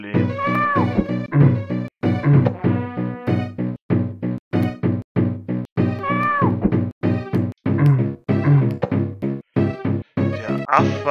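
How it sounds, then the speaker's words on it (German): A cat in the video game Lester the Unlikely meows over and over in a rapid, looping series of short, clear, tonal calls, each cut off abruptly, loud and up close. "Der macht so Miau!"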